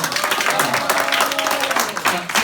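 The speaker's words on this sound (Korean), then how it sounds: "박수로 한번 격려해 주세요" Audience applause at a high school winter retreat worship service, a dense, steady wash of clapping filling the room for the full stretch, with some voices mixed in.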